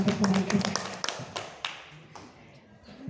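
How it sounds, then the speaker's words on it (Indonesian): Teachers in an audience clap in a quick burst of sharp claps that thins into a few scattered ones, with a voice audible faintly underneath. "Minta tepuk tangan teman-teman untuk membantu."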